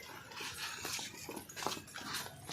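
A dog at a park garden making short whimpering yips and soft vocal sounds, close and fairly faint, in quick uneven bursts with light outdoor background.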